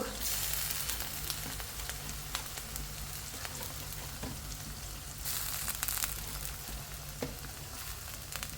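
Ginger, garlic and cumin paste fries in a pan in a home kitchen, giving a steady, close hiss of sizzling with occasional small stirring knocks, constant and moderately quiet throughout.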